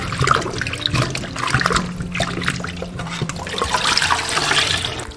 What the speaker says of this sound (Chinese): 把莲藕清洗干净。